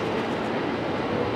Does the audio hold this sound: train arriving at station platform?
yes